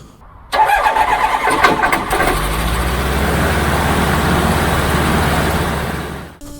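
A light aircraft's propeller engine starts with a cough and catches, then settles into a steady, loud, close running drone with no talk over it.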